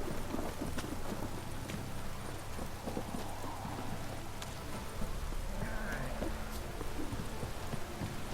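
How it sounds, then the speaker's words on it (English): A heavy downpour in The Witcher 3 hisses steadily, with a low rumble of thunder underneath, while a horse's hooves clop faintly through the continuous roar of the rain. "This downpour's a bastard"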